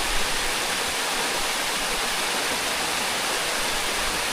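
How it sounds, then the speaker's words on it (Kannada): Theerthakere waterfall beside a road, a dense unbroken roar of falling water, loud and steady throughout with nothing else audible. "ಅದು ತೀರ್ಥಕೆರೆ ಫಾಲ್ಸು"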